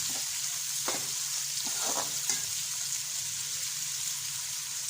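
Chopped onions browning in a pan for a bottle gourd curry, a steady soft sizzle with a few faint scraping stirs, fairly quiet and with no talking.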